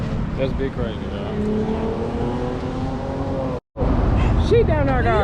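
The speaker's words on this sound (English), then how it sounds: "So they rolling in the race, the whatever you call it, a little super race car." A race car at a Cars and Coffee show revs and accelerates with a loud, rising engine note, heard under close talking, with a brief cut partway through before more revving.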